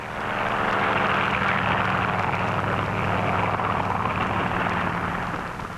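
Propeller control planes taking off from an aircraft carrier during Operation Crossroads at Bikini, a steady, loud engine roar with a low droning hum that holds throughout, no voices present.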